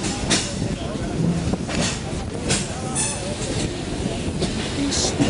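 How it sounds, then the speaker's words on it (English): A freight train rolls along slowly at about 20 to 25 mph, its wheels giving a steady rumble with intermittent clanks and hiss, and faint voices nearby. "Train's not going that fast right now"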